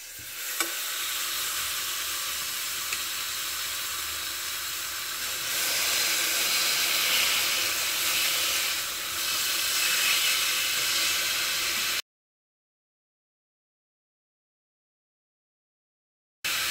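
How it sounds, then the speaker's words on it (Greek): Pork chops sizzle loudly in a large, very hot lidded frying pan, a steady dense hiss and crackle that swells slightly midway, runs about twelve seconds, then stops abruptly into silence. "παίρνουμε ένα μεγάλο τηγάνι που να έχει καπάκι, το βάζουμε να κάψει και βάζουμε μέσα τις μπριζόλες μας"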